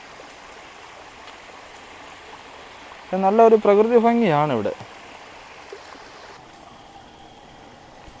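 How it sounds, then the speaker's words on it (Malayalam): A small stream of water flows from a pond in the Avalon Nature Preserve, a steady faint trickle heard throughout, with a voice speaking over it briefly in the middle. "അവിടെ നിന്നാണ്ട് വെള്ളം കുറച്ച് ഒഴുകി വരുന്നു."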